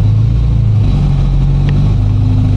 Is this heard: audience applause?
no